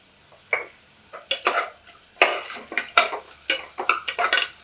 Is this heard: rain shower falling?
no